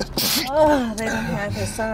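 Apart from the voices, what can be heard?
sneeze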